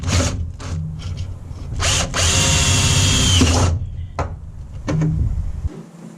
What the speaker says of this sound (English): So let's drill some holes and mount it up.